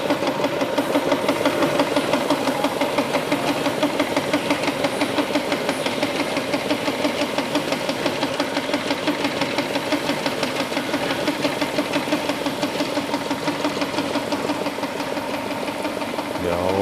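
A mechanical air pump runs steadily with a rapid, even chugging pulse and a hiss, continuous and moderately loud for the whole stretch, at a Thai temple.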